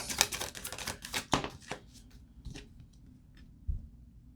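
Tarot cards riffled and flicked during a shuffle and draw, giving a run of quick crisp snaps and slaps that thin out into a few soft taps and one last thump.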